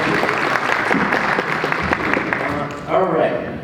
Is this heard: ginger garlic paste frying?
no